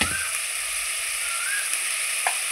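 Spices with salt and turmeric frying in a pan for a pointed gourd curry, a steady close hiss and sizzle throughout with no talking.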